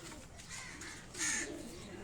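Breeder pigeons coo softly on a rooftop in Karachi, a low rolling call over quiet background noise, with one brief brighter chirp near the middle.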